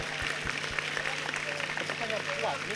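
Applause for a sponsor at a university academic advisor and student gathering, steady clapping from a crowd mixed with chatter and voices throughout.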